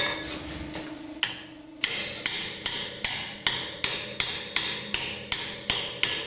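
A hammer drives a car wheel bearing into its hub through a socket set on the outer race, making about a dozen loud, close metallic taps in a steady rhythm that take on a brighter ringing tone after a short pause.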